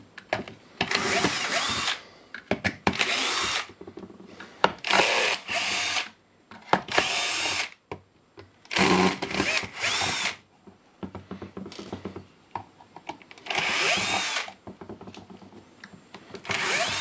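A power drill backs screws out of a faulty Milwaukee M18 12 Ah battery pack. It whirs in several loud, close bursts of a second or two, separated by quiet pauses and small handling clicks.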